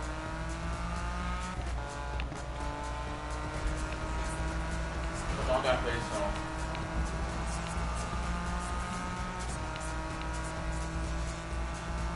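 Engine noise roars loud and continuous from a race car in the Need for Speed 2015 video game, with gear changes, rising revs and a brief tire squeal partway through.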